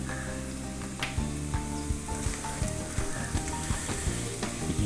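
Beef dry fry sizzles steadily in a hot pan, a dense crackling hiss with periodic stirring scrapes and clunks of the spoon, close and continuous without speech.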